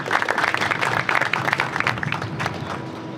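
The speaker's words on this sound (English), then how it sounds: "I want a big round of applause for the MVP from DAZN, Joe Markowski." Applause from a press conference audience on a rooftop, a steady wash of clapping for about three seconds that thins slightly toward the end.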